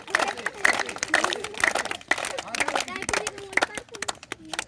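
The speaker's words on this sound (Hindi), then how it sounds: "हाथ ऐसे करिए और ताली बजाएंगे हम लोग" A group at an outdoor yoga awareness session claps hands together in a steady, evenly spaced rhythm, with sharp repeated claps and voices in the background.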